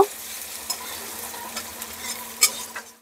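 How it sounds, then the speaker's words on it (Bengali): Soft sizzle of chopped onions frying in a pan, with occasional light scrapes of stirring. "পেঁয়াজ কুচিটাকে খুব ভালো করে কিন্তু ভেজে ভেজে নিব।"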